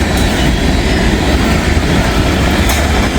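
A CSX freight train, Z109, rolls past close by with a loud, steady rumble and rhythmic wheel clatter lasting throughout, with faint metallic squeal at moments.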